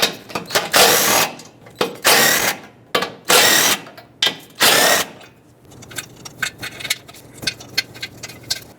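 A power tool removes 13mm mounting nuts on a Nissan Altima. Several loud ratcheting bursts of under a second each come in quick succession, followed by lighter, rapid clicking and tapping as the nuts spin off.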